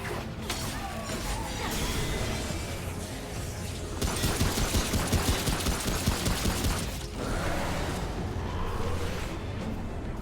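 Video game gunfire rattles in rapid, dense volleys, with crashes and whooshes in a loud, chaotic stretch that swells in the middle. Faint voices are mixed in.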